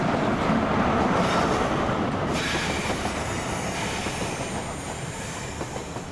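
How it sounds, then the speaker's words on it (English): A train pulls away from a station platform after dispatch, with steady rumbling wheels and rail noise and a brief squeal of wheels, loud and close throughout with no talk. "And that is a train dispatched safely."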